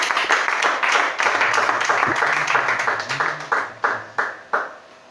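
A church congregation at a service claps and cheers in sustained applause that breaks into a slower rhythmic clap toward the end, with voices mixed in.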